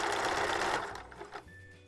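A sewing machine stitches a halter leotard and its lining, running in a steady dense whir for most of the clip before slowing and stopping near the end, close and alone.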